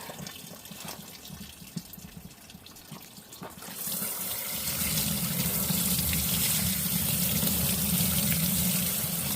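Tap water gushes steadily into a sink to rinse out a rock tumbler barrel that held larger bloodstone pieces and ceramic abrasive media in pre-polish grit, starting after a few seconds of quieter handling and running loud and continuous to the end.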